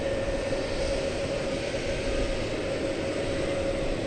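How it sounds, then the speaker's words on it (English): An American Airlines jet arriving at DFW Airport from Santa Ana, California, gives a steady, loud roar of engine noise at night, unbroken for the whole stretch with no voices. "Got a flight coming in from Santa Ana, California."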